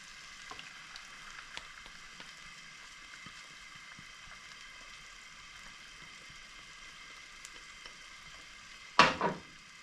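A ham and egg mix is poured into a hot pan for a scramble. A quiet, continuous low frying hiss with faint ticks runs throughout, ending in a short, louder splash and sizzle burst near the close.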